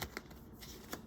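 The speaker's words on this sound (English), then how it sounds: "I am going to do a card pull. Ooh. Since I just started shuffling" A Psychic Tarot Oracle card deck is shuffled in the hands, soft quick riffling flutters with a couple of light taps, faint and close, with no talk.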